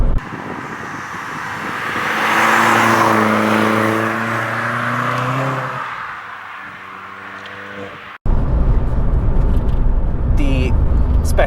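A Volkswagen Polo GTI engine pulls hard, its note climbing as the car accelerates, then gives way to a loud, steady roar of road and wind.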